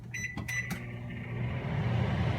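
A microwave oven used to melt cookie ingredients: a few keypad beeps up front, then the steady low hum of the oven running, close and moderately quiet.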